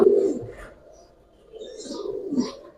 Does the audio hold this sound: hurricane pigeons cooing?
yes